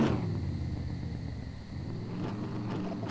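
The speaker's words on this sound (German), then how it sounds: "So laut das Auto." A car engine drones in the SCUM survival game, a loud, close, low rumble that holds steady, dips briefly and then picks up again.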